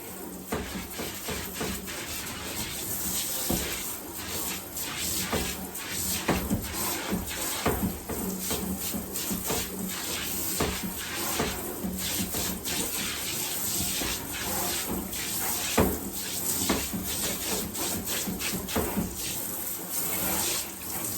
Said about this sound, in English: Get the soap down, and the soap is cleaning the drain as it's going down.